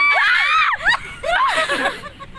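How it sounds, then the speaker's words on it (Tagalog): Several people on a boat scream loudly together, high-pitched shrieks sweeping up and down in two bursts with a brief pause between, close and frantic. "Huwag kayo sumigaw, nananervous yung bangkero"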